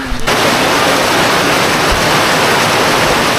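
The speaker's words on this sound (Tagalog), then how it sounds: "Bumuhos na naman ang malakas na ulan." Dense, steady roar of heavy rain pouring down, loud and continuous, after a brief moment of softer sound at the start.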